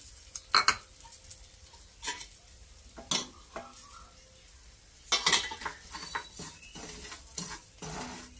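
Broken wheat (daliya) frying in hot ghee in a pan, with a steady soft sizzle under repeated spoon stirs and scrapes against the metal, close and moderately quiet.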